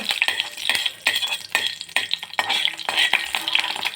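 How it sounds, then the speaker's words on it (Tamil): Mustard seeds are tempered in hot oil in a pan, giving repeated crackling sizzles and popping bursts along with stirring clinks of a utensil against the pan. "கட்டியில் எண்ணெய் காய வச்சுருக்கேன் இதில் கடுகு போட்டு தாளிச்சுக்கோங்க"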